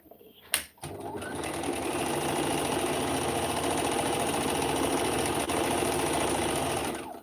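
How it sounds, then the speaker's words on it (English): A sewing machine runs steadily as it stitches knitted fabric for steeking, giving a continuous close-up mechanical whir after a short knock at the start, with no talk. "I'm just going to go all the way to the top, making sure I don't accidentally sew some of the other fabric underneath"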